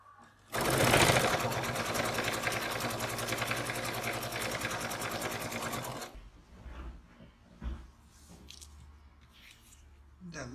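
A sewing machine stitches a card pocket onto fabric with a loud, steady whirring run for about five seconds, then stops. Quieter handling noises follow.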